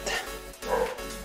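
A dog barks twice in quick succession, fairly close and loud, with a steady low hum running underneath.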